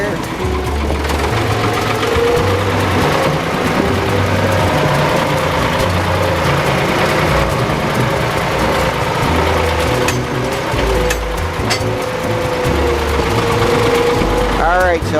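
A tractor engine running in first gear while carrying a lifted bucket out to a hay field, a loud, steady low rumble with rhythmic knocking and mechanical rattles, under intermittent talking.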